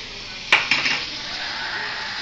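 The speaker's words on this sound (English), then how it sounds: "So I'll just stir it." A large spoon stirs a golden powder mixture during a chemical synthesis, with two sharp clinks against the container and then a steady hiss.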